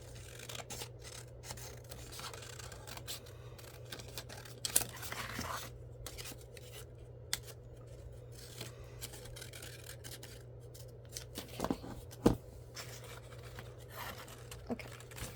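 Scissors cutting out a paper dragon, with quiet intermittent snips and paper rustling over a steady low hum, close and soft, with no talking.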